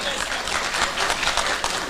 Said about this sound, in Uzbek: Ustozimiz uchun yurakdan qarsak bo'lsin